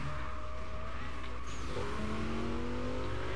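Fast car racing in the video game Burnout Paradise, a steady engine roar with tonal whine that rises near the end, continuous and fairly loud with no voices.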